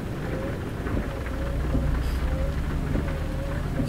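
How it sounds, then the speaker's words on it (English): Steady heavy rain and thunder rumble from a truck-driving game set on a route between Grand Junction, Colorado, and Rawlins, Wyoming, with a continuous dense wash of rainfall and low rumbling throughout, no talk. "It's really raining here"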